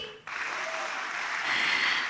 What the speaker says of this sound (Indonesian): tepuk tangannya yang lebih meriah nanti ya